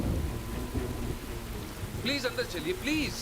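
Steady, heavy rain pours outdoors with a low rumble of thunder underneath; a voice speaks over the downpour in the second half.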